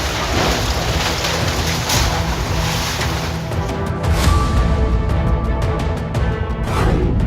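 Heavy rain pours down in a dense, continuous hiss, with occasional gusty surges and splashes.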